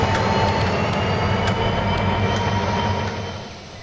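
A locomotive runs steadily in the train game Rolling Line, giving a continuous loud rumble with rail noise that fades slightly toward the end, with no voices.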